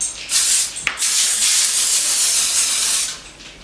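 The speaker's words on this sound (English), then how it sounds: "we're just going to lightly spray these with vegetable spray" Can of vegetable oil spray misting a baking pan for lemon and tart cherry bars, a short hiss followed by one long continuous spray lasting about three seconds, close and loud.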